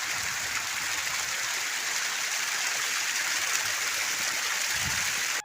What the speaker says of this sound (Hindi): पानी की छलछल हो रही है।